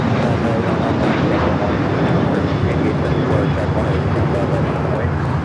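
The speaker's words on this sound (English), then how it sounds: "1418 taking off to Guadalajara on the 737-800" Alaska Airlines Boeing 737-800 taking off from LAX, a steady broadband jet roar filling the whole stretch at constant loudness, with voices faintly present.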